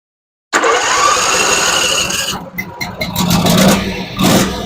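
A Husqvarna zero-turn mower engine catches abruptly and runs loud and close, its revving rising and dipping unevenly with clattering as the throttle is adjusted.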